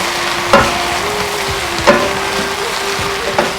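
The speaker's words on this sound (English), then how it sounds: "the rice in, and then start tossing with 2 wooden spoons" Fried rice tossed in a pan with two wooden spoons: a steady hiss of frying under three sharp, evenly spaced scraping knocks as the spoons strike the pan, loud and close.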